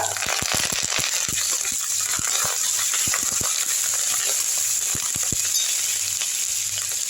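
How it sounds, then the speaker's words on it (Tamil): Green chillies and curry leaves fry in hot coconut oil in a pan. A steady, close sizzle and hiss runs throughout, broken by sharp crackles and pops, with no talking. "எண்ணெயில் பச்சை மிளகா போட்டுக்கங்க நல்லா வதங்கட்டும் அடுத்து கருவேப்பிலை"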